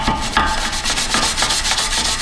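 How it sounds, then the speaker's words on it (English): A wire brush scrubs rust from the inside of a rear brake rotor on a Buick Encore, making rapid, steady back-and-forth scraping strokes that are close and loud, with no talking. "we're just gonna go over the inside with just a wire brush"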